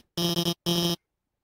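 Two loud, harsh electronic buzzes from a timer in the game Undertale: a first burst broken by a quick stutter, then a second half-second blast, followed by silence.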